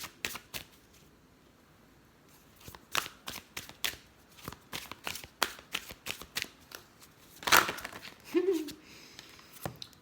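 Oracle cards being shuffled and drawn by hand, a run of quick papery riffles and slaps, close and fairly crisp, with a few louder card snaps and a brief rustle near the end.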